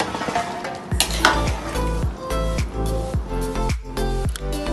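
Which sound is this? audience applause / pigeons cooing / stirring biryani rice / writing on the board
stirring biryani rice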